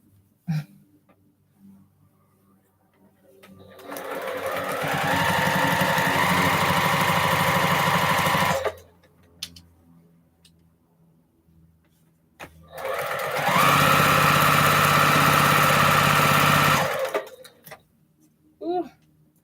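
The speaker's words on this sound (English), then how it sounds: "I keep thinking about this machine. I said, now this is a Juki TL 2000Q." A Juki TL 2000Q sewing machine sewing quilt strip sets runs in two sustained, loud, close bursts of steady whirring stitching, separated by a quiet pause with no talking.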